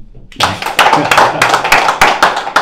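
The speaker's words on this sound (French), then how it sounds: "Est-ce qu'on peut d'abord applaudir?" Clapping from a small group at a wedding gathering, with distinct individual hand claps and thumps close by, uneven and dense, under some voices.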